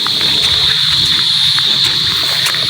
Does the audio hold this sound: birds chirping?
no